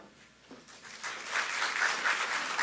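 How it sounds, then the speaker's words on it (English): An audience at a DPT white coat ceremony for the Class of 2025 breaks into applause that starts thin, then swells into steady, dense clapping from many hands. "It's nice to be clapped for before you speak."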